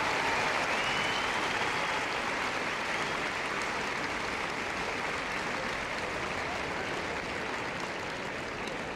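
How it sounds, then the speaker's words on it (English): Steady, sustained audience applause fills an arena after a gundog display at Crufts 2015, a broad continuous wash of clapping heard at moderate distance with no pauses. "give them all a massive round of applause"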